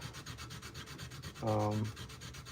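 Steady rhythmic rubbing strokes of hand sanding a blade, quick back-and-forth passes, with one louder, longer stroke midway.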